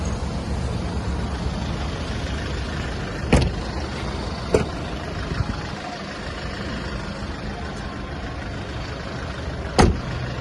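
A Kia Bongo 3 4x4 with the D4CB diesel engine idles smoothly and steadily up close, a low even rumble broken by a few sharp metallic clicks.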